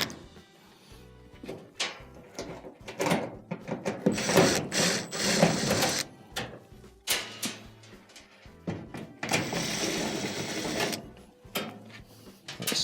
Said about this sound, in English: there are 3 Phillips screws that will need to be removed.